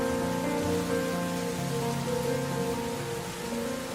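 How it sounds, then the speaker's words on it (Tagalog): Rain falls steadily on a surface during sunshine, a constant soft hiss running the whole time beneath sustained background music. "Ang sarap panoorin ng ulan"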